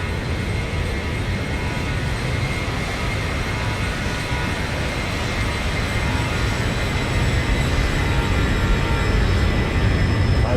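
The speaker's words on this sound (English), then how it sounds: "I love the flybys in X-Plane." Steady, loud aircraft engine roar from a flyby in the X-Plane 12 flight simulator, a dense continuous rumble with a faint whine that swells slightly toward the end, no talking.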